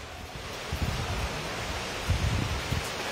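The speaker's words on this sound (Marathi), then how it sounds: "खूप पाऊस आहे, खूप खूप पाऊस आहे" Heavy rain pours steadily onto a balcony, a dense wide hiss with low rumbling gusts that swell around the middle and later, no voices.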